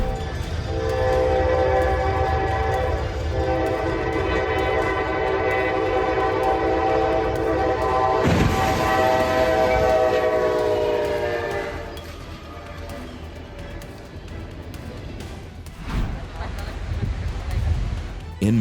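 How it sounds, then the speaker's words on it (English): A train in Multisaw derails and leaves the tracks: a loud, sustained horn blares over a heavy rumbling roll, a sharp crashing burst cuts through midway, and a rougher, quieter clatter follows. "a train unexpectedly left the tracks and went off course"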